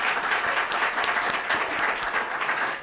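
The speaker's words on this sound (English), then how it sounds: "I'd like to give them a round of applause." Audience at an academic technology and development conference gives a round of applause, a dense, steady wash of many hands clapping that holds at an even level throughout, with no talking.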